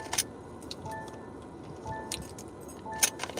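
A set of keys jangles and clinks in short bursts, with a sharp rattle at the start and another near the end, over low background rumble.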